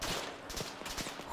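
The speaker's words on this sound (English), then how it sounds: "Guy in the road's opening fire on me." Enemy gunfire crackles in a war video game set in an alternate-history Second Korean War, a dense burst of rapid shots running close and loud through the whole brief moment.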